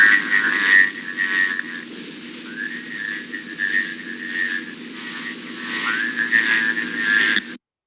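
A toad, a species close to the American toad, gives a long, steady trilling call, sustained nearly continuously at moderate volume with slight pitch wobbles, alone and close by.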